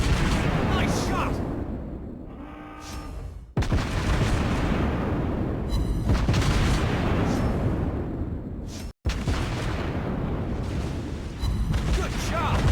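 Naval guns firing in World of Warships Blitz aboard the cruiser USS Cleveland, heavy booming salvos rolling one into another under steady battle noise, with a sharp cut in the middle and a voice talking over the action.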